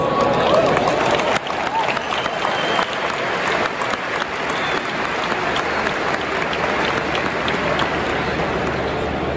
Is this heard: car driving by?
no